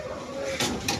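A pigeon nearby, soft cooing over a steady hum, broken by two short fluttering bursts like quick wingbeats.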